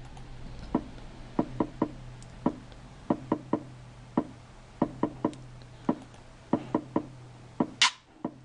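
Kick drum preset "kick hard knock" from a free EQ mixing preset pack, played as a string of sharp, punchy hits in an uneven rhythm, about twenty strikes alone with no talking.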